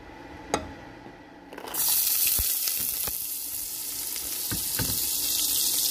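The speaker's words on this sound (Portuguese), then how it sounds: "eu vou começar a fritar esse frango. Vou colocar na panela de pressão com mais um fiozinho de azeite e alguns cubinhos de bacon" Chicken pieces with cubes of bacon and a drizzle of olive oil fry in a pressure cooker. A few sharp clinks come first, then a loud, steady sizzle begins and continues close up, with occasional knocks and stirring.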